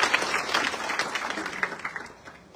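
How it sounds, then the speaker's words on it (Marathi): A crowd at a BJP political rally in Karmala applauds, with dense clapping that gradually thins and fades toward the end. "याला जोरदार टाळ्या वाजवून त्याचं स्वागत करा"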